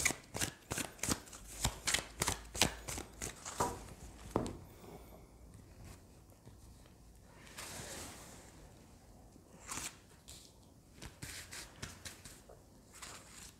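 Playing cards riffled and shuffled in a quick run of close, crisp flicks, then a few softer slides and taps as single cards are drawn and laid down, with no talk.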